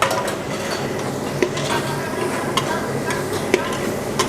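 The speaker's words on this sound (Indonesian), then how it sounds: "Ya, cukup diaduk-aduk sebentar aja" Chopped scallions, onion and other vegetables stirred in a frying pan over a low sizzle, with a few distinct scrapes and taps of the spatula against the pan.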